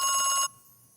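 A telephone bell rings loud and close in a fast, trilling burst for about half a second, then cuts off abruptly, leaving near silence.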